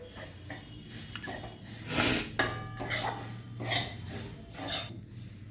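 Semolina and grated coconut stirred in a pan, a spoon scraping and clinking against the metal in irregular strokes with a few louder knocks, close and fairly quiet.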